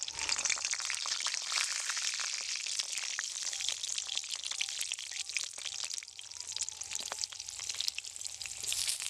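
Chicken-stuffed pointed gourds fry in hot white oil in a kadai, a faint, continuous crackling sizzle with small popping spatters throughout.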